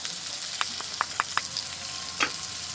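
Cumin and coriander powder fry in a pan with browned onion and ginger, garlic and green chilli paste for a chicken bharta, giving a steady close sizzle punctuated by several sharp spatula scrapes and clicks.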